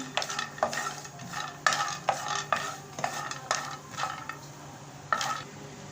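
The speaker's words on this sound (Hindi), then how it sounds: "इसी में हम पिस्ता डाल देंगे, इसको भी हम फ्राई करेंगे।" Pistachios frying in a pan for poppy seed laddus: a soft sizzle under repeated close stirring strokes, irregular in rhythm and moderately quiet, with no talking.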